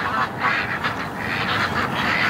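A flock of penned ducks, with some geese nearby, quacking and honking together in a dense, close and agitated chorus that never pauses.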